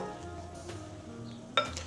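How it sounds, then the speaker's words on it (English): A dry mix folded into a beaten batter with a spoon for a chocolate self-saucing pudding: soft, quiet scraping and stirring with one brighter clink of the spoon near the end, nothing else over it. "a folding is just a rhythm like this with the spoon. Just folding that dry mix and it's combining it together"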